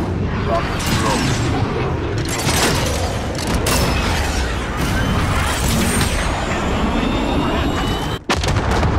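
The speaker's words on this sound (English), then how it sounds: "Rocket strike." Rocket strike in Call of Duty Modern Warfare multiplayer, a loud continuous barrage of booming explosions and gunfire with mechanical creaks and whistling streaks overhead, dense and close, briefly cutting out near the end, with game voices underneath.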